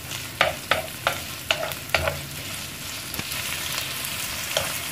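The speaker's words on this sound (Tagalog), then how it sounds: "Haluin lang po natin para po lumasa yung ating onion at garlic at bacon" Onion, garlic and bacon stirred in a frying pan, several sharp spatula scrapes in the first two seconds over a steady close sizzle that carries on alone afterward.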